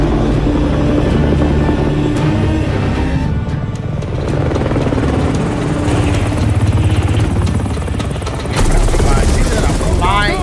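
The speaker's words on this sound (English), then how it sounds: "fucking helicopter" A helicopter's rotor and engine drone steadily throughout, loud and close, in Call of Duty: Modern Warfare 3, with game ambience and people talking over it.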